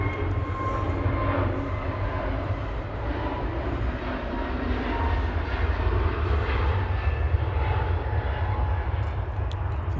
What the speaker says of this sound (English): EasyJet to Paris Charles de Gaulle on the roll in the background, flight 2107